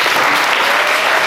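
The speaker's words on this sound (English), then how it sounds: "Give them a round of applause." Loud, sustained applause from an audience honouring matriculants at a school event, a thick, even roar of many hands clapping at once throughout.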